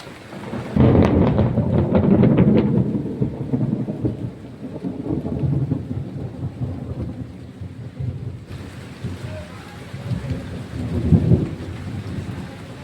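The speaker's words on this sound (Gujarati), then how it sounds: "ફાઇનલી આ તો વરસાદ ચાલુ થઈ ગયો. હા, વીજળીના દળબડાટી બોલાવે છે" Heavy rain pours steadily while deep thunder rumbles loudly at the start and rolls again later, a full thunderstorm close by.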